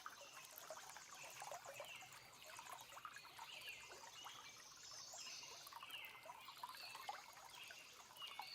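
Clear, cold water from a small forest stream trickles and babbles steadily close by, a bright continuous gurgle with small splashes and no voices.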